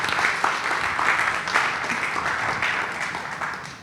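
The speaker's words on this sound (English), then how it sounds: "round of applause" Audience applause at a supply chain and logistics startup selection day, a steady close wash of clapping hands that holds for several seconds and slowly fades, with no voices over it.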